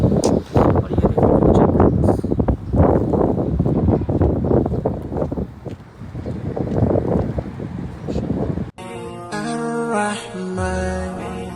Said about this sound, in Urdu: شام میں تو مدینہ منورہ میں جو ہوا چلتی ہے نا اس کا مقابلہ کوئی نہیں